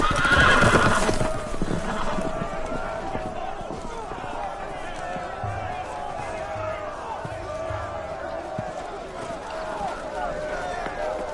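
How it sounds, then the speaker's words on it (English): Loose horses in a Game of Thrones video game neigh and whinny loudly at the start, then hooves clip-clop and scatter as they run, over a busy in-game background. "The horses! They're loose!"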